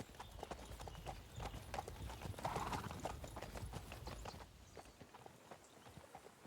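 Horses in the video game Kingdom Come: Deliverance II, hooves clip-clopping in a steady walking rhythm with a brief whinny partway through, fairly close, the hoofbeats growing fainter toward the end.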